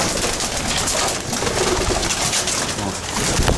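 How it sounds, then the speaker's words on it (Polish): Pigeons coo repeatedly inside a loft with an aviary attached, soft throaty calls overlapping at close range, while people talk quietly in the background. "Tu sobie siedzą te gołąbki."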